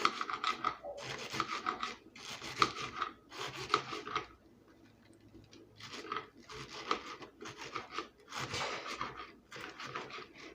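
A rigid kitchen knife chops a head of lettuce on a cutting board in quiet, crisp, rhythmic strokes, grouped in bursts with a short pause midway.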